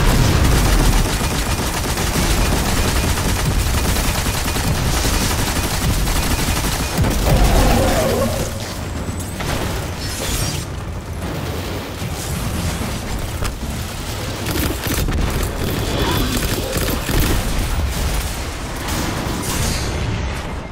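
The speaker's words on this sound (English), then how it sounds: "I heard those explosions from here." Dense bursts of gunfire and heavy explosions crackle and boom continuously, loud and chaotic, with little letup across the whole stretch.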